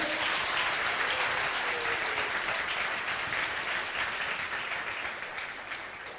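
Steady audience applause at a Turkish talent competition, loud and dense, many hands clapping together, gradually tapering off toward the end.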